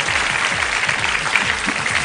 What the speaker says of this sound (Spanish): este aplauso es para José Luis